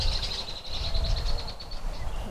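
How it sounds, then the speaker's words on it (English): Red-winged blackbirds call faintly in the distance across a marsh at MetroBeach, thin repeated high notes over a low outdoor rumble. "Right now we can hear a lot of red-winged blackbirds."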